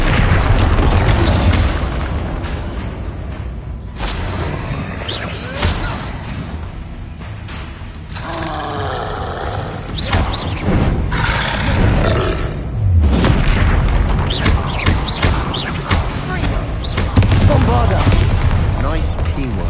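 Confringo and Bombarda spell blasts from Hogwarts Legacy fire off as loud, repeated booming explosions and crackling bursts over game sounds, with voices shouting between them.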